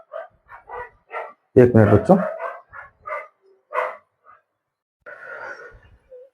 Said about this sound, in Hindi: डॉग भौंक रहा है, पता नहीं चलता है।